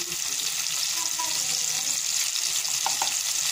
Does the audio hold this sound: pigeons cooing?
no